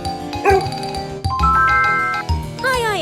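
A pet dog barks and yips a few times over bright, jingling background music, with a short whimpering cry at the end.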